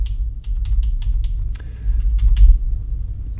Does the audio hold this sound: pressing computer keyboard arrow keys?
yes